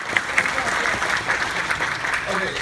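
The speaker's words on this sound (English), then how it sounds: "You're going to applause for Ginny for running around" A convention panel audience claps together in a short, steady, fairly loud round of applause from a crowd, with no voices rising above the clapping.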